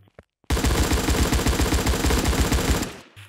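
A loud, rapid burst of automatic gunfire from an offline Android shooter game runs for about two and a half seconds of tightly spaced shots, then cuts off sharply, with a few faint clicks before and after.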